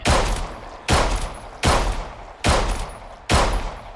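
Five loud, sharp gunshots fire at a steady pace in the zombie survival video game HumanitZ, each with a brief echoing tail, close and punchy.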